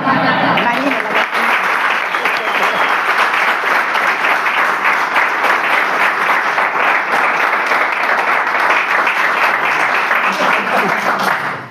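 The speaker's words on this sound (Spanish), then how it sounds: "voy a pedir un aplauso pre-charla para que sienta el calor de Antonio" A lecture audience at a talk on Tartessos and the mysteries of Andalusia claps warmly before the talk begins, a loud, continuous wall of applause lasting over ten seconds before fading at the end.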